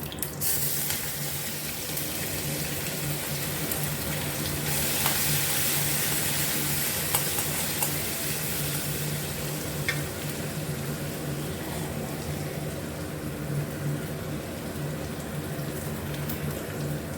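Mustard seeds, curry leaves, ginger and garlic sizzle in hot oil, a steady hissing crackle with scattered sharp pops that runs evenly throughout.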